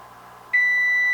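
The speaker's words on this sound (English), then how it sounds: "It should beep." An oven gives a single steady electronic beep while roasting chicken, sustained and clear at a high pitch, over faint background hum after a brief quiet moment.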